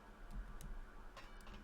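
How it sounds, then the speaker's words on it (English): Faint ticking clicks in the Minecraft HBM's NTM mod during uranium hexafluoride processing, a few quiet broadband ticks scattered over a low steady background hum, no talking. "You hear a faint clicking."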